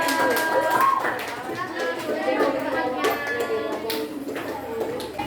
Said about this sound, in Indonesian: beri tepuk tangan buat Pulau Jawa